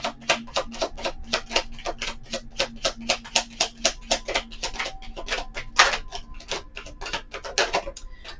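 Tarot cards being shuffled by hand, a fast, steady run of crisp riffling flicks close to the listener, ending with a few slower snaps as a card is drawn, with no talking.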